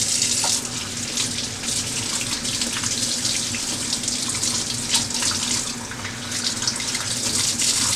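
Running tap water gushes steadily into a sink while a plastic egg separator is rinsed under the stream, close and continuous with a constant splashing hiss.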